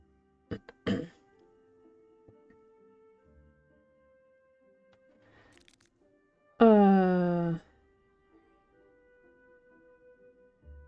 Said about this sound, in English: He coughs delicately.